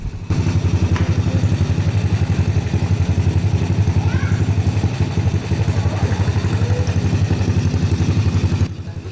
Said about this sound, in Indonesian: Standar langsam pada motor yaitu 1200 sampai 1600 rpm